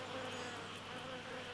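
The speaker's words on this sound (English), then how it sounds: "and you can hear it full of bees." Bees drone steadily around a flowering epiphytic succulent in a hanging basket, a dense continuous buzz heard close and alone with no talking.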